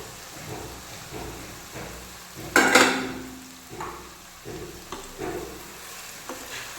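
Multigrain millet noodle biryani being stirred gently in a pan, with soft scraping and light sizzle, one louder clatter of the spoon against the pan near the middle, then quieter intermittent stirring.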